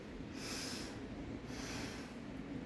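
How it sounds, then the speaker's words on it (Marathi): Two slow, deep breaths drawn through the nose during pranayama breathing practice, soft airy rushes about a second apart over a quiet background, with no talking. "एक दीर्घ श्वास घ्या।"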